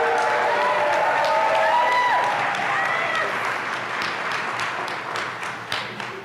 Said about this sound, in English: I just want to invite everyone to applaud in the way that you applaud, with cheers and claps and handshaking for Sarah and Lisa.